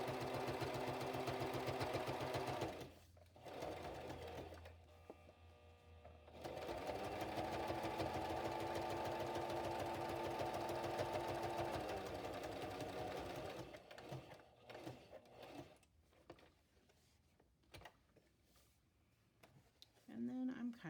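A sewing machine runs in steady bursts, stitching about an eighth of an inch from the edge of a handmade journal cover, its motor whirring loudly with a brief pause before stopping, followed by quieter handling noises.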